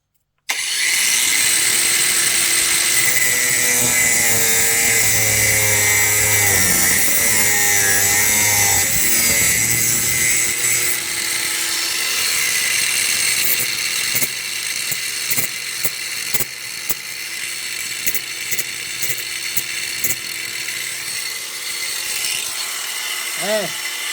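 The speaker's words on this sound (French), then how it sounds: "Meuleuse, attention, ça va faire du bruit." A Parkside angle grinder cutting on a minibike engine whines loudly and steadily, with changing pitch and a rasping, grinding edge throughout, and a voice speaks briefly near the start.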